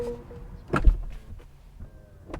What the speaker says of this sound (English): But shutting the door here, you can either slam the door or